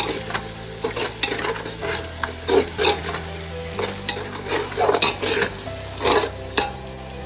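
Chilli and turmeric powder sizzle in hot oil for chicken dum biryani, with a spoon scraping and stirring the pan in repeated bursts over a continuous frying hiss.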